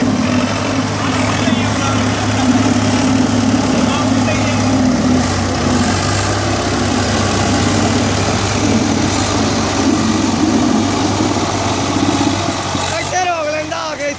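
A Chahal tractor engine runs at a steady idle with a low, continuous drone throughout, while voices talk over it and a brief sweeping sound rises near the end.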